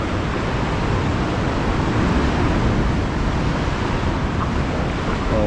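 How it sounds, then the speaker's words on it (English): Ocean waves crash inside a sea cave, a loud, continuous roar of surf and booming echo with no clear breaks, filling the enclosed space. "you can see the waves just crashing into the back wall"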